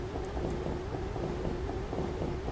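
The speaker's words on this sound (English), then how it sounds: "I've got the wipers on because we're going through a load of cloud and some rain at the moment." Rain hitting the windscreen of a Boeing 737 MAX 8 in Microsoft Flight Simulator while flying through cloud, with the wipers running: a steady broadband wash with faint rhythmic sweeps, continuous and even throughout.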